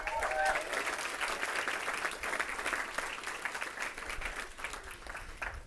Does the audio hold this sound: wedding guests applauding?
yes